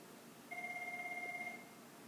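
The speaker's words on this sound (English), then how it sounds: "There's a phone in the storeroom." A telephone rings once in a storeroom: a steady electronic two-tone burst of about a second, faint and set back in the room, with quiet room hiss before and after.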